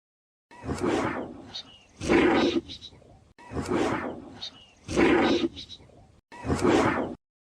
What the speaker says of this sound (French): La panthère noire.